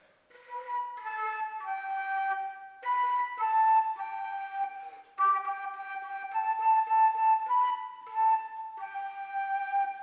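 A flute plays the simple three-note beginner tune Hot Cross Buns, in clear, sustained phrases separated by short breaths, fairly soft and heard alone.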